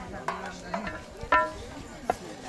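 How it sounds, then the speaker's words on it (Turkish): Lokma dough frying in hot oil: a soft bubbling sizzle with a few stirring clinks and scrapes, quiet and close. "lokmamız pişiniyor, pişiyor"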